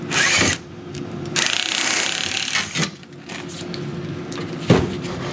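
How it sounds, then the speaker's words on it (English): A power drill bores through the back band of a Jackson Kayak C1 saddle, with a loud whining burst, then a longer sustained drilling run and brief spurts, close up. "You go ahead and drill through."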